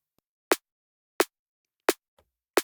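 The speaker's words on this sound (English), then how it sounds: "you can hear the raw snare sound" A raw synthesized snare drum from Serum strikes four times alone at an even, slow pace. Each hit is short, sharp and noisy, with a quick decay into silence.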